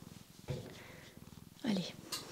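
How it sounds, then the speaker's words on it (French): Cat purring, a soft steady rhythmic rumble pulsing close by, with someone talking over it. "Je vais lâcher le chat."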